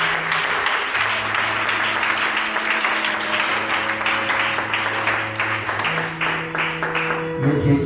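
A church congregation applauds through a Sunday service, steady broadband clapping that runs the whole time, with sustained organ or keyboard tones underneath.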